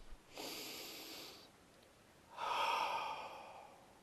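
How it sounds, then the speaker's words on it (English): Two long, soft breaths a moment apart, the first an inhale and the second a fuller, louder exhale, each drawn out and close with no talking, taken during a calm guided relaxation. "Now take a nice deep breath in."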